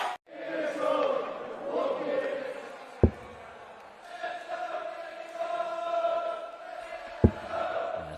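Darts crowd in a packed arena at the 2022 Gibraltar Darts Trophy, a steady broad roar of cheering with a sustained sung or chanted tone, two sharp thuds standing out over the noise.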